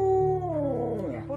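A dog howls alone indoors, a close, loud, drawn-out wail that holds steady and then slides downward with wavering pitch.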